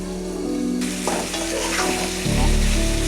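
Sweet pumpkin from a home garden is stirred and sautéed in a frying pan, loud close sizzling with a sharp scrape of the spoon partway through.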